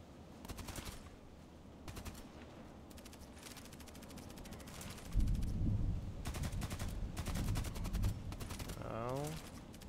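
Gunfire in the SKS sniper video game: bursts of rapid shots come in several clusters with a heavier boom partway through, fairly faint and distant against low background noise.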